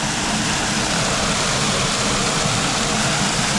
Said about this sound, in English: I'm right behind the waterfall right now